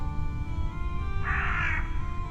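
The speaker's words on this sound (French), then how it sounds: "Un corbeau coassa au loin" A crow caws once in the distance, a short rasping call over a steady low hum of wind in the trees near a farm.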